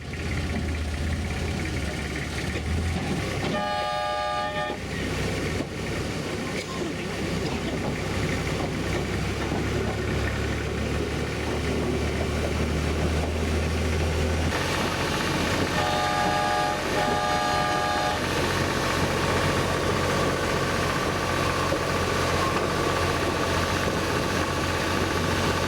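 A diesel-hydraulic locomotive rumbles steadily past at close range for the whole stretch, loud and continuous, with short horn blasts sounding twice over the engine noise.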